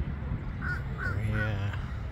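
A crow perched atop a lamppost lets out a few short caws on a morning outdoors, fairly faint, while a person talks underneath.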